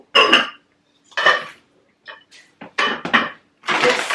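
Metal pots are handled in a basement, giving several separate clanks and clinks in bursts with short silent gaps between them, loud and close, with no voices.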